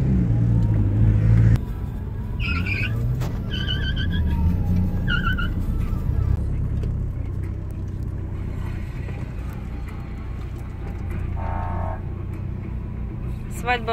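Cars drive on a highway, some in the oncoming lane, giving a steady road rumble with passing vehicles and a few horn-like tones while people talk over it.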